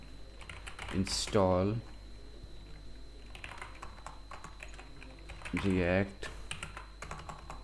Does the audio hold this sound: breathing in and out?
no